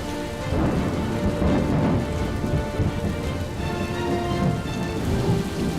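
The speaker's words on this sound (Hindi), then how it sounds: "मैदान से लेकर पहाड़ तक कहीं मूसलाधार बारिश तो कहीं भारी बारिश" Torrential monsoon rain pours down in a dense, steady hiss, with deep rumbles of thunder rolling underneath, loud and continuous with no voices.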